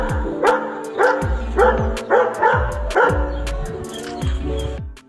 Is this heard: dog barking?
yes